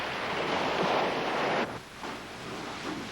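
Broadband ocean surf rushes steadily, standing in for giant waves from volcanic landslides or submarine eruptions, then briefly dips before rolling back at a slightly lower, continuous level; no voices.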